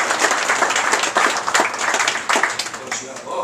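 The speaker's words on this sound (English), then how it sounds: "Round of applause." Audience at a culinary cooking demonstration giving a round of applause, a dense, loud wash of clapping hands lasting several seconds, with scattered voices under it.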